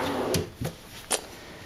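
A craft-room storage drawer holding glues and a hot glue gun slides and bumps shut, giving a soft sliding rumble followed by two or three light knocks, close and moderately quiet with no talking.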